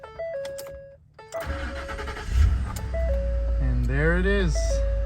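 A 2011 Ford F-150 that had been cranking without starting has its ignition turned, with chime tones, a short whirring crank and then the engine catching into a loud, steady idle.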